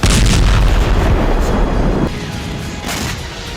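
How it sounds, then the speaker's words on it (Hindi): Israeli bombardment and artillery fire in Gaza, a loud, rumbling roar of blasts and booms that fills the clip and slowly fades toward the end. "इजराइल आसमान से बमबारी कर रहा है"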